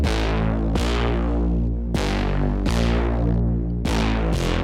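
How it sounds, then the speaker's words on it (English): An aggressive, thick bass synth preset from the Next Generation Volume 3 pack plays loud, distorted sustained notes, retriggered every second or so with bright, buzzy attacks, alone and close. "I started with a very aggressive bass"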